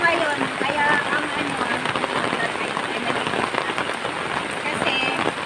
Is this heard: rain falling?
yes